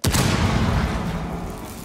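A loud, close explosion from the Rainbow Six Siege match on the Coastline map bursts out and rolls into a long, dense rumbling decay lasting nearly two seconds.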